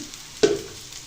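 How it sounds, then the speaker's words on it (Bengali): Onions, garlic and chili hit hot frying oil in a kitchen, setting off a sudden sharp sizzle that bursts out loudly, then settles into a fainter crackle within the second. "এই যে পেঁয়াজ, রসুন, মরিচ যা আছে এগুলো আমি দিয়ে ভেজে নেব ভালো করে"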